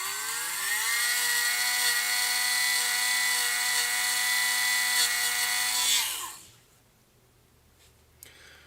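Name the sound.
sanding bit sanding a wooden toy flat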